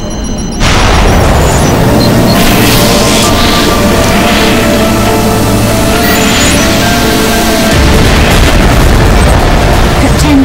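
Missile explosion in the racing video game Wipeout HD Fury on the Ubermall Reverse track: a loud, sustained booming blast over roaring engine and game noise, filling the whole stretch with a game announcer voice.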